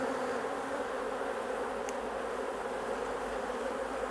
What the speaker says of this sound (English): So I'll just shake these bees off so I can pop the frame back in without rolling